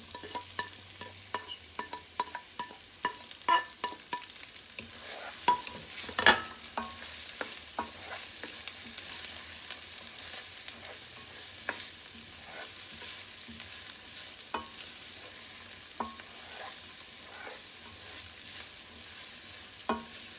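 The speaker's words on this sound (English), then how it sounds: "the oil's hot because I left the pan on for a while. So I'm just going to put in the bhindi in it." Okra added to oil left heating in a pan, a quiet steady sizzle broken by scattered scraping and clinking as the pieces are stirred, with no talking.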